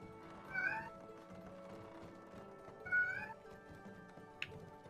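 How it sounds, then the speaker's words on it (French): A cat meows twice in the video game It Takes Two, two short rising cries a couple of seconds apart, set over a quiet bed of game ambience and a faint click. "Je sais pas pourquoi il miaule."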